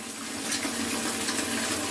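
Water pouring into a container as it fills, a steady close rushing splash that stays constant throughout.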